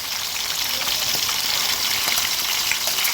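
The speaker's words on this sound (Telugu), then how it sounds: "తాలింపులో పచ్చిమిర్చి, ఇలాచి, దాల్చిన చెక్క, లవంగాలు 3 వేగినాయి" Green chillies, cardamom, cinnamon and cloves fry in hot oil for a fish pulusu tempering, giving a steady, close, dense sizzle that holds evenly throughout without pause.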